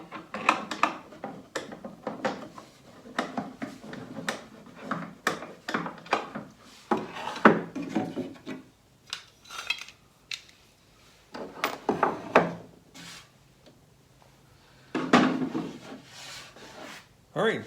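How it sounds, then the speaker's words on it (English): Sandpaper rubbed over wooden drawers to break rough edges, close and fairly quiet, a series of short rasping strokes in bursts with brief pauses between them. "Gonna again go over a quick once over with some sandpaper, make sure I have all the rough edges kind of broken."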